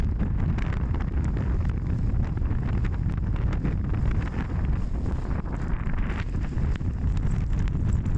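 Strong wind buffets the microphone continuously on an outdoor hike, a loud roaring gust noise with no letup.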